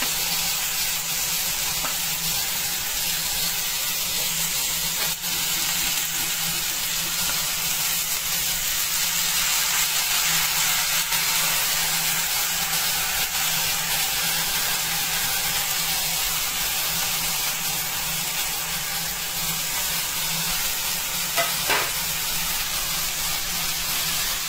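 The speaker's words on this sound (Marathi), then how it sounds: "त्यानंतर बटाटा, पावटा घेतला, ह्या सगळ्या भाज्या मी आता त्याच्यामध्ये" Potatoes and pavta beans fry in a pan for a Bhogi sabji, making a steady, loud sizzling hiss that runs unbroken throughout with no talking.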